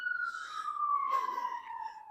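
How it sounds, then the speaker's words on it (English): An emergency vehicle siren on Albert Street in downtown Regina, heard from a distance as a clear wailing tone that slowly falls in pitch across the clip. "going down Albert Street, I guess, that siren."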